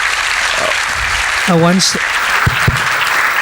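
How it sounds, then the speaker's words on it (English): An audience at a youth Q&A claps steadily for Maharaj, a continuous wash of applause with a voice calling out briefly over it. "Please give a big round of applause for Maharaj."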